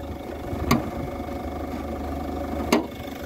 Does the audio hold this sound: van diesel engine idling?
yes